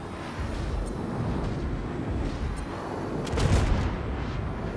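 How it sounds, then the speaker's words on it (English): Explosions and gunfire in the space combat game Star Citizen during a PVE bounty hunting fight, a dense continuous rumble of blasts with a louder burst near the end, no talk over it. "Man, so many explosions."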